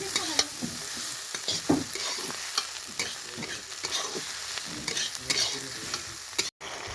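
Mushrooms sautéed with spices in a hot pan crackle and sizzle steadily, with repeated scraping and stirring strokes of a spatula up close, with no voices over it.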